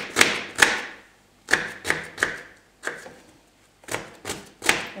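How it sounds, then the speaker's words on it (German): A knife chopping a small onion on a board: loud, close, crisp thuds in uneven bursts of one or two strokes, with short pauses between them. "Kleine Zwiebel auch klein schneiden."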